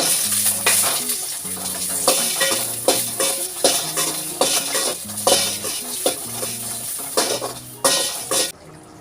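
Eggplant fried in oil in a pan for a South Indian tamarind curry, a steady sizzle with repeated scraping and clanking of a spoon stirring against the pan, close and loud with no speech.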